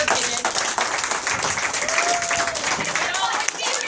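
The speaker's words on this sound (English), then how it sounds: "let's give a round of applause for all the players and all their hard work they did." A crowd claps and cheers in sustained applause for youth baseball players at a post-season picnic, dense and fairly loud, with a few voices calling out over it.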